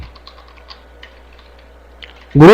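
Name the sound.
typing text on a computer keyboard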